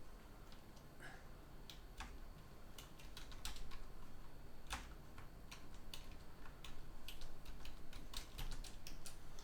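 Someone types on a computer keyboard, a quick irregular run of sharp key clicks close by over a faint background hum.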